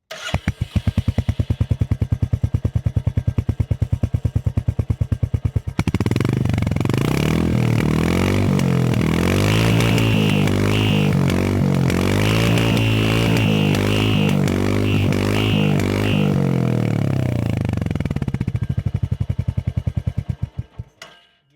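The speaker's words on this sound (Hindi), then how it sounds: "ये एग्जॉस्ट की ये वाली आवाज़ है, जो अगर आप साइलेंसर या एग्जॉस्ट मॉडिफाई नहीं करवाते हैं तब तक ये आपको आवाज़ आने वाली है" Royal Enfield Hunter 350 motorcycle with its stock exhaust, starting up and idling: a steady, close thumping single-cylinder putter that rises into a fuller rumble with a brief rev, then settles and cuts off.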